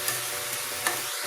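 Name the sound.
frying and stirring mustard greens with amita in pan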